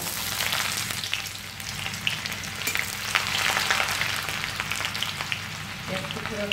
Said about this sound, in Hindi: कढ़ाई हमने रख दिए, तेल भी गर्म हो गया, अभी हम देते प्याज।